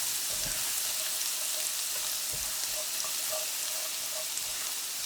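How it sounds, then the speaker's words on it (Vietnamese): Minced shallots and garlic fry in oil in a pan, a steady soft hiss of sizzling with a few small pops and light stirring taps, fairly quiet and without talk. "phi lên cho thơm"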